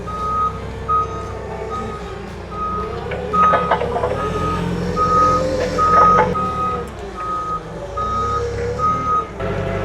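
An International Dresser bulldozer runs with a steady engine rumble while its reversing alarm beeps in a regular, evenly spaced pattern throughout, loud and close.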